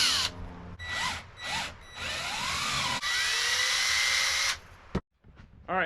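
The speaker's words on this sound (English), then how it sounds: "Now it's time to drill it out with a little bit bigger drill bit" A power drill bores out holes in a hand-forged 51-layer Damascus steel knife with a slightly larger bit, whining in several bursts that rise and fall in pitch, then one long steady run before stopping abruptly.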